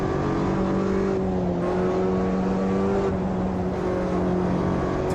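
Modded race car in the Automobilista 2 racing game, its engine holding a steady sustained drone with a layered harmonic whine at near-constant revs, loud and continuous throughout.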